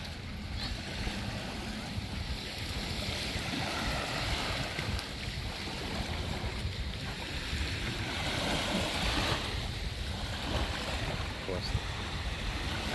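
Waves wash steadily against a seaside embankment at Büyükçekmece near Istanbul, a continuous broadband surf rush mixed with wind buffeting the microphone, with no clear breaks.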